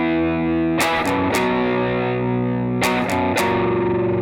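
Distorted electric guitar plays the riff, with sustained ringing chords broken by a few sharp pick attacks in two clusters, loud and alone.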